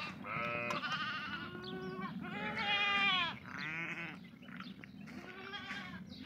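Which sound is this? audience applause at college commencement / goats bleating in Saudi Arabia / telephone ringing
goats bleating in Saudi Arabia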